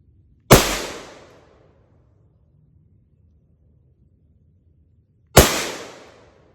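Two sharp gunshots ring out outdoors, spaced about five seconds apart, each a loud close crack with a short decaying echo, and no talking in between.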